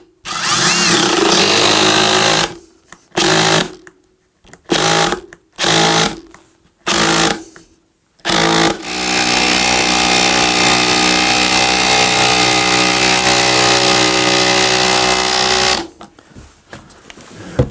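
A Milwaukee cordless impact driver runs at top speed on a full battery: several short loud bursts of rattling hammering, then one long sustained loud run that cuts off near the end.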